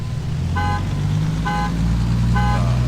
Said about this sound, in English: we set off his car alarm